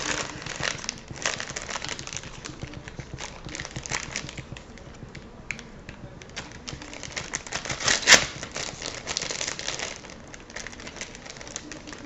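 A sealed paper mail envelope is pried open by hand, giving continuous close crinkling and crackling paper with fast ticking rustles and one brief sharp snap midway.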